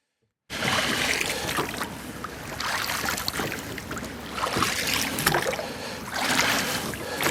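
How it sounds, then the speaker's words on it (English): A light canoe rowed with oars on open water, with steady swishing strokes and splashes under continuous wind and water noise, close to the microphone. "They go quite well with oars, canoes"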